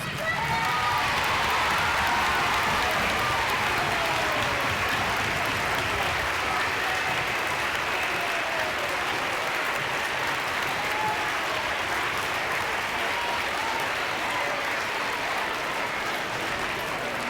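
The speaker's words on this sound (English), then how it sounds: "Please stand and give these heroes a well-deserved round of applause." Audience at a school Veterans Day assembly applauding military guests, sustained dense clapping with some cheering, steady and loud from start to finish.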